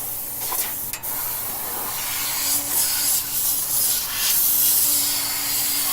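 Compressed air hisses and blows steadily into a Miller 250DX TIG welder during maintenance, a continuous close rushing noise with slight surges and faint rubbing sounds.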